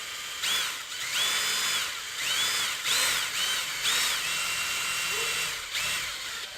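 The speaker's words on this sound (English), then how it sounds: "I'm gonna be tapping these to an 832." A power tool taps threads for 8-32 screws into aluminum on a dragster build, its motor whining in repeated bursts that rise and fall in pitch, close and moderately loud.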